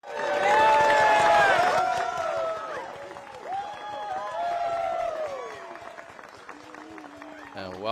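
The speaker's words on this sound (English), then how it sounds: "Looks like the crowd and gallery is into it and ready to go." The crowd and gallery at the DGPT Championship disc golf FPO finals cheer and whoop, loudest at the start, then gradually thinning into scattered voices and calls.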